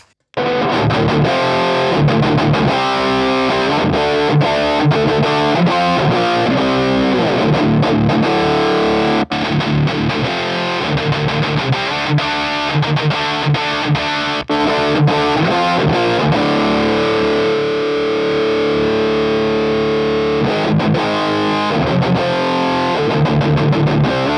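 An electric guitar plays through a Diezel VH4 amplifier, boosted by a Lichtlamp King pedal on its yellow setting, giving a loud, continuous, heavily distorted riffing tone with chugging rhythm throughout.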